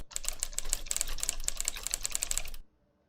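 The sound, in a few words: mechanical typewriter sound effect from writing app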